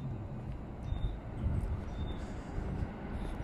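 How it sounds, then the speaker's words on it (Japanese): A train passes near Shinkoyasu Station along a line carried by long-distance Tokaido and Shonan-Shinjuku services, a continuous low rumble and rolling roar with faint high squeals, heard nearby outdoors. "まあでも電車の音は結構響きますね。"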